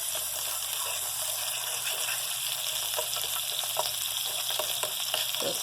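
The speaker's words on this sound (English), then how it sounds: "Get your flour all mixed in." Flour being whisked into melted butter in a pan for a quick dinner recipe, a continuous sizzling, frying hiss with soft scraping stirs underneath, close and steady with no talk.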